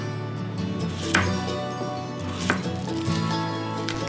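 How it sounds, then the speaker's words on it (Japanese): A knife slices a sweet potato into 8 mm rounds on a board, with a few sharp chops standing out over steady kitchen clatter. "さつまいもは8ミリ厚に切ります。"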